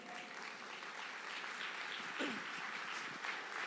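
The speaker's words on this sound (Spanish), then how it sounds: "¿Cuántos le dan un aplauso al Señor?" Church congregation clapping for the Lord during a Spanish-language sermon, a steady, fairly distant wash of applause with a brief voice rising through it.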